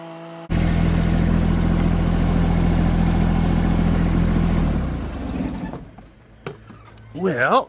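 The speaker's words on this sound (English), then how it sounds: "This little tractor's worth its weight in gold." A small tractor engine runs steadily and loud, then winds down and drops away, leaving quieter background sounds and a short rising squeal near the end.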